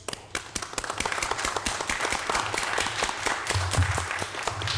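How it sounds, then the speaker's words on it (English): Audience clapping at a city council meeting in Linden, a steady burst of dense applause from a room full of people, fairly close and sustained throughout. "just really give him a round of applause"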